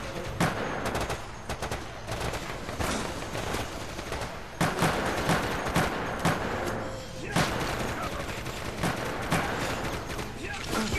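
AK rifle fire in the Resident Evil: Operation Raccoon City video game, several loud sharp bursts and single shots spread across the stretch, with players talking over the action.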